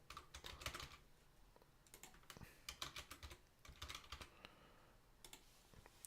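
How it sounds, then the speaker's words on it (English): Steady typing on a computer keyboard, close and fairly quiet, with irregular bursts of key clicks and brief pauses between words. "I love typing these up."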